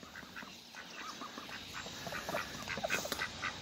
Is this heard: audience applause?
no